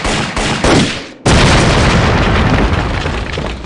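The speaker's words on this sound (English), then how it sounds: "Oh, I think he blew himself up there." A loud, close explosion in an Indiana Jones video game as an enemy blows himself up, with an initial burst then a big boom followed by a sustained rumbling roar.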